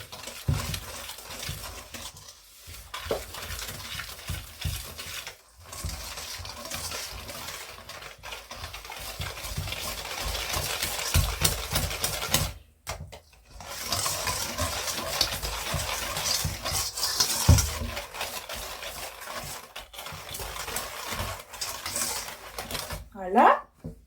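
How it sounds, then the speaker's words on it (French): A wire whisk beats butter into cookie batter in a bowl for triple-chocolate cookies, a steady scraping, tapping stir running throughout with a few brief pauses, close and moderately loud, while a person speaks over it. "on va prendre un fouet et on va venir mélanger tout ça"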